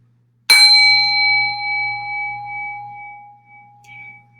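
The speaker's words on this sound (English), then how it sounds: "I feel bad talking over the ringing of the sound bowl" A singing sound bowl struck once and left ringing, a bright metallic onset followed by a long, steady sustained tone with clear overtones that slowly fades over several seconds, heard alone without talk.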